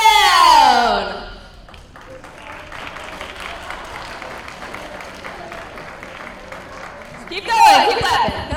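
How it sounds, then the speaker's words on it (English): An audience at a seminar clapping in a dense steady patter, fairly quiet between louder bursts of music or cheering at the start and end, with voices speaking over it. "Keep going, keep clapping, come on."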